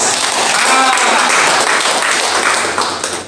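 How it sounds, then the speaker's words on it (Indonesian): A crowd at a church worship service bursts into loud, dense applause that sustains for a few seconds before beginning to fade. "Tepuk tangan yang yakin."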